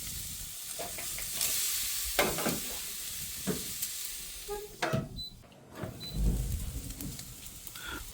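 T-bone steak searing on the hot grill plate of a Masterbuilt Gravity 800, a steady close sizzle with scattered crackles and brief metallic taps and scrapes as it is turned.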